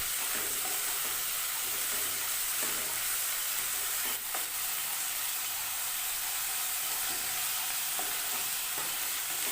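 Drumstick flowers stir-frying in a pan for an egg poriyal, a steady, bright sizzle that continues without break, with occasional soft scrapes of stirring.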